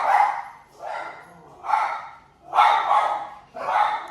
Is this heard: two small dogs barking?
yes